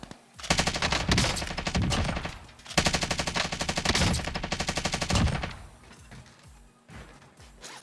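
A Stoner machine gun fires in a video game in two long, loud bursts of rapid automatic gunfire, then trails off into quieter game sounds with a few faint later shots.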